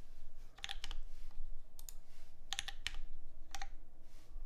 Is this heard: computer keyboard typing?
yes